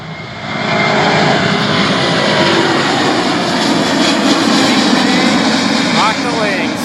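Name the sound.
Boeing 787 Dreamliner jet departing, climbing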